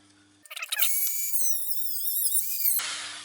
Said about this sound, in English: cut off the top rail, probably by running the Dremel down like that